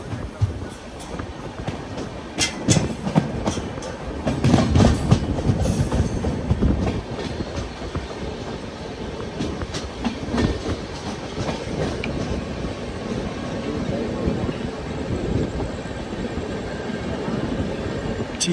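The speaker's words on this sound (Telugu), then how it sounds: "చీరాల స్టేషన్ లోపలికి అయితే ఎంటర్ అయిపోతున్నాం" An Intercity Express rolls into Chirala station, its wheels rattling in a continuous clickety-clack under a broad rumble from inside the carriage, fairly loud and steady throughout.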